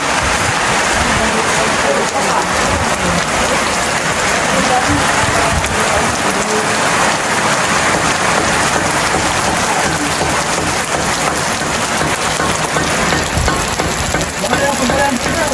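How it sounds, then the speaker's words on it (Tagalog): Steady, dense heavy rain pours down on a rooftop in a continuous hiss throughout, loud and close, with no pauses. "Grabe po, kalakas ang ulan"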